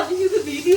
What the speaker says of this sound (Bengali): এখানে মাছের বেগুনের তরকারি বানাচ্ছে কই মাছ দিয়ে।